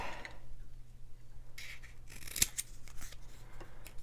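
Scissors cutting a paper card panel, a few soft close snips and slicing strokes with a sharp click partway through.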